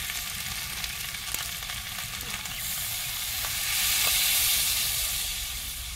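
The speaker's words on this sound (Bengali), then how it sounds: "এবার আমি জল দিয়ে দেব" Water goes into a pan of sizzling duck meat curry, a dense, loud frying hiss that swells into steamy bubbling, close up with no talk.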